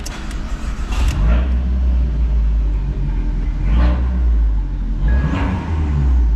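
A Fiat 500 Abarth with a 1.4 engine and full straight-pipe exhaust rumbles deep and steady from inside the car, swelling with a few short throttle surges, with no talking.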